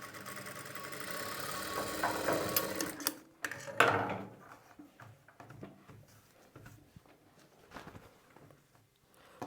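A sewing machine stitches near the collar of a shirt, its motor whirring loudly in the first few seconds, then stopping into quieter handling clicks and faint rustles.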